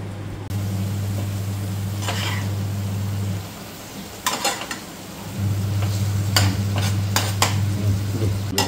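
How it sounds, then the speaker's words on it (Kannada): Fish coated in masala fries in a pan with a steady sizzle, joined by scraping stirs and a few clinks of a utensil against the pan, close and fairly loud. "ಅದೇ ಮಸಾಲೆಯನ್ನು ಮೀನಿಗೆ ಹಾಕಬೇಕು, ಮತ್ತೆ ಫ್ರೈ ಮಾಡಬೇಕು"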